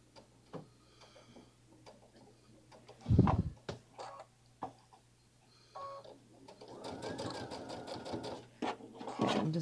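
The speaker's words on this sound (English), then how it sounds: "I'm just going to stitch right up along that." A sewing machine runs short bursts of stitching along a French seam while a dress is being sewn, with whirring runs broken by clicks, pauses and handling knocks, and a longer steady stitching run near the end.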